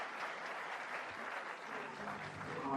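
Audience at a heated talk applauding, a dense steady patter of many hands clapping at a distance, fairly faint, with no clear shouting standing out.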